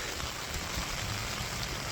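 Rain falls in Szczecin as a faint, steady, even hiss of drops on surfaces, with no voices.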